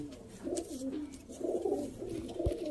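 Ferozpuri female pigeons coo in soft, rolling low phrases that repeat steadily and close by, with a brief sharp knock near the end and no voices.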